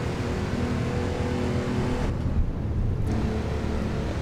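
Porsche 911 Carrera 993 in the racing game Assetto Corsa, driven on the High Force road map: a steady engine drone, loud and close, with a brief dip in the top end midway and no talk.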